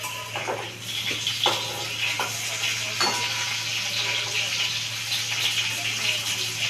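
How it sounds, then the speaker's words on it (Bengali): Chopped tomato goes into a pan of fried potatoes and sizzles with a steady, close frying hiss and a few splashy bursts early on. A low hum runs underneath, and someone speaks over the cooking. "আলু ভাজা হয়ে গেছে এবার টমেটোটা দিয়ে দিই"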